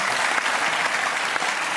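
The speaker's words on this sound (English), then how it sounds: "Richard applauding, and that's the clip we'll use." Applause in a comedy podcast setting, dense and steady throughout, sounding more like a full room of clapping than a lone pair of hands, with no voices over it.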